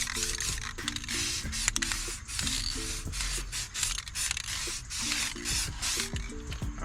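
Adhesion promoter sprays from an aerosol can onto a car headlight in long hissing bursts, with a rattling, squeaky mechanical clicking underneath as the can is worked.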